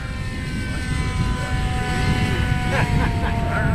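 An E-Flite BAE Hawk electric ducted-fan model jet flies on its maiden flight, a steady whining roar that holds throughout with a slight swell near the end, while people talk.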